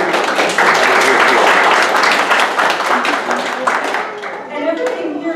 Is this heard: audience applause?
yes